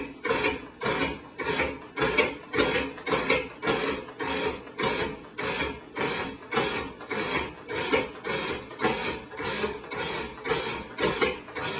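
A food processor pulses a butter and cauliflower mixture in steady, rapid bursts, each short whirring pulse repeating evenly and loudly for the whole stretch with no voices.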